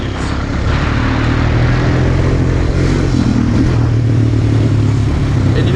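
A stock Honda Recon 250 ATV engine runs steadily and close by, a continuous low, even drone with a faint mechanical whine, loud and unbroken throughout with no talk.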